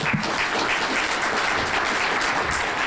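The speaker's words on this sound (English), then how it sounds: "A quick round of applause for them." A crowd at a membership meeting clapping steadily and loudly for a few seconds, a continuous patter of many hands with no voices.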